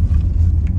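Tractors working in a cotton field in Dangara give a deep, steady engine rumble, loud and close, in one short burst without talk.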